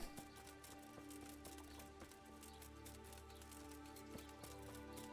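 Steady rain hisses and patters continuously in the video game Kingdom Come: Deliverance, with fog, layered with a low droning hum and faint scattered clicks, with no voices.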